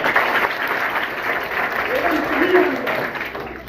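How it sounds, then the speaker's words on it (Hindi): Loud applause from a school gathering rewarding a child's correct answer: a continuous wash of many hands clapping, with voices and shouts rising over the clapping throughout. "हाँ एक बार जोरदार ताली।"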